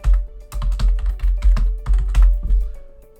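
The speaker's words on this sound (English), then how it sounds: "Now I'm going to type in Steve." Computer keyboard keys tapped in an irregular run of about a dozen close, crisp strokes while logging into a router over telnet, with a steady faint hum underneath.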